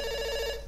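A brief burst of telephone ringing from the game Dr. Langeskov, a clear warbling bell tone heard up close with no voices over it.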